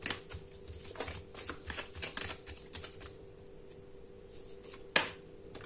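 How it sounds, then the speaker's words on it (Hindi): A deck of tarot cards is shuffled and drawn up close with rapid papery riffles and flicks, then goes quiet and ends with one sharp card snap. "पहले मैं कार्ड्स निकाल लेता हूँ"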